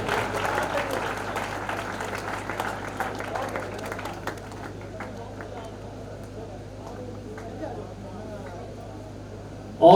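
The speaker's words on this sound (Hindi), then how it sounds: "दोबारा तालियां बजाएंगे," Applause from an audience at a prize distribution ceremony, a few seconds of scattered clapping that fades into near quiet, broken by a sudden loud sound at the very end.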